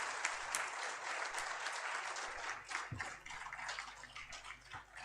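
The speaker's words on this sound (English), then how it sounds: "if we can give everybody, the panel, a round of applause" An audience at a book launch panel gives a sustained round of applause, a dense wash of clapping that runs throughout at moderate distance.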